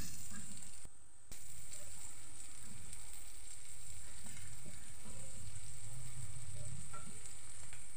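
Cauliflower pieces frying in a pan give a steady, dense sizzle with small crackles and occasional scrapes of turning, a short dip near the start, no voices.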